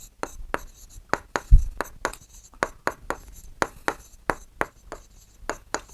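Pen strokes on paper during a Class 7 geometry triangle-construction lesson, a series of short sharp scratches in an irregular rhythm, close and fairly quiet.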